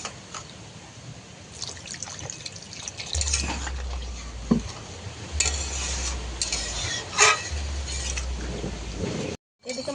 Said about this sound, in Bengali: তাই আরেকটু জল দেবো।